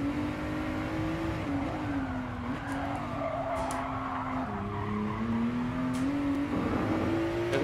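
A 2017 Ford GT laps the Nürburgring in Gran Turismo Sport. The engine drones loud and steady, its pitch rising and dropping through gear changes, with brief tire squeals over a continuous racing roar.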